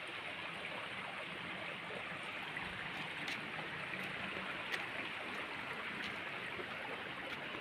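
A river flowing past a fallen tree gives a soft, steady rushing wash of water, heard faint and continuous with no voices.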